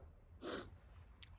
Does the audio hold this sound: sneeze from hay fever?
yes